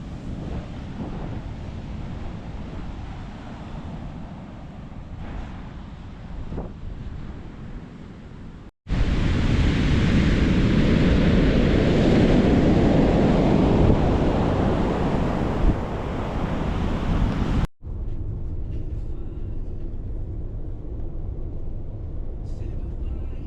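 Ocean surf and gusting wind buffet a microphone at a New Zealand beach, a steady roar swelling louder through the middle and then easing, constant and close throughout.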